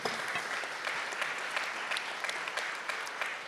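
Audience applause at a public forum on economic policy, a fairly soft, continuous patter of many hands heard alone from a distance.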